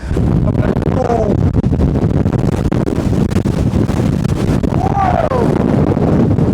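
Storm Floris wind buffeting the microphone on an exposed clifftop walk, a loud continuous roar with gusty rumble, and brief voice-like sounds rising through it.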